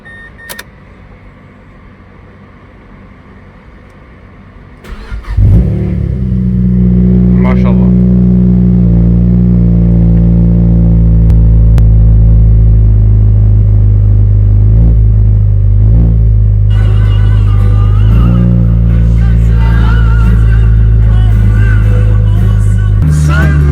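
A loud, deep Nissan GT-R sports car engine starts up and idles with a heavy, steady rumble, a few revs rising over it, with people talking nearby.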